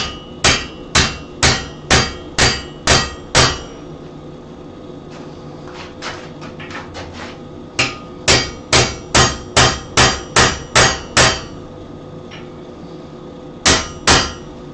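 Hammer blows on a chisel driven into hot forged metal, ringing sharp and close in quick rhythmic bursts of about six to eight strikes, separated by short pauses with a few lighter taps.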